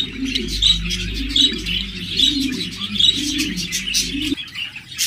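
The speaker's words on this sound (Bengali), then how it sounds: "দেখতে পাচ্ছেন একজোড়া জাপানিজ বাজিকার রয়েছে, ডাবল ফ্লাওয়ার, চমৎকার বিগ সাইজের এই পেয়ার জোড়া" A pair of big double-flower Japanese budgerigars chirps up close, bright repeated tweets and soft warbling chatter in an irregular rhythm, with a low rumble beneath that cuts off near the end.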